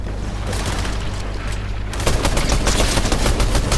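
Rapid gunfire in the video game Fortnite, a dense, loud stream of automatic shots that grows heavier and busier midway through.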